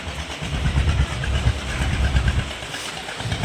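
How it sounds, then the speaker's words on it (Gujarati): A tractor loaded with groundnuts rumbles steadily nearby, a low chugging drone with uneven throbbing. "માંડવીનું ટ્રેક્ટર ભરાઈને આવી ગયું છે"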